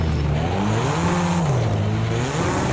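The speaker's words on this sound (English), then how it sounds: "Car on your left." A car engine in a racing video game drones loud and close, its pitch rising and falling steadily as the car drives past, with no talk over it.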